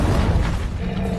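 Fiery spell blast from Incendio in Hogwarts Legacy, a loud, dense low rumbling whoosh sustained throughout a short burst with no talk.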